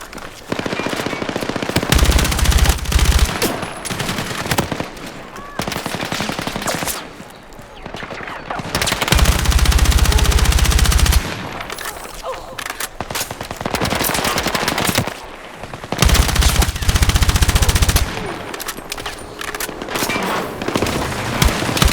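Sustained bursts of automatic machine gun fire crackle through a Battlefield 6 match, loud and dense with brief pauses between volleys, with voices calling out over the shooting.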